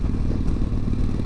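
A motorcycle engine rumbles during a ride, a brief loud burst of low engine drone mixed with rushing wind noise.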